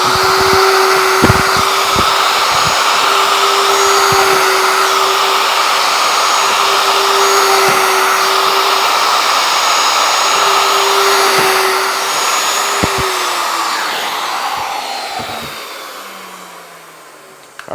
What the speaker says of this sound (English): to drill my first hole here, now it's clamped down